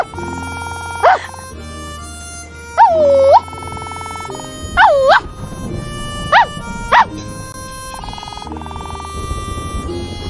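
A person imitates a dog barking, with several short, loud woof-like yelps spaced irregularly over faint background music.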